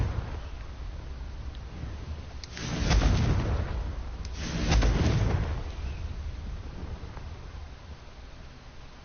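Confringo blasting spell explosions in Hogwarts Legacy, two heavy booming blasts a couple of seconds apart with rumbling tails, over a steady low game ambience and no talk.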